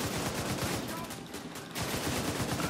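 Sustained gunfire in The Division 2, dense and continuous across the clip with rapid bursts, loud and close, briefly thinning in the middle before resuming at full intensity.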